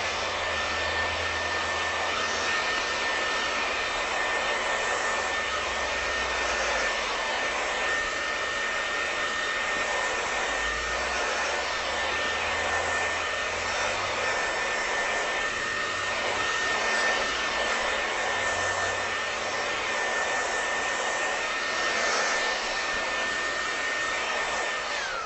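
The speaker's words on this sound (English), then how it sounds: "And then you can use your dryer." A hair dryer blowing continuously while wavy or curly hair is straightened with a paddle brush, a loud steady whine and rush of air with slight fluctuations as the brush moves through the hair.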